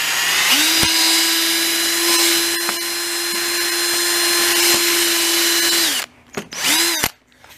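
A power drill whines steadily at constant speed for several seconds driving a screw into wood, then stops and gives two short bursts, with faint clicks along the way.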